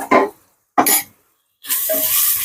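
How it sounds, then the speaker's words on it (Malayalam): Ginger garlic paste sautéing with onions in a pan: two short scraping stir bursts, then a steady hiss of frying close by, with no talk. "ഇഞ്ചി വെളുത്തുള്ളി പേസ്റ്റ് ഇതൊന്ന് നമുക്കിന്ന് വഴറ്റാം"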